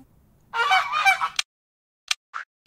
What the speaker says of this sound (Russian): Покажи гуся. У него длинная шея и толстый клюв.